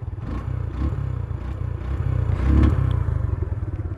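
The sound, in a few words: Suzuki Gixxer old model motorcycle engine sound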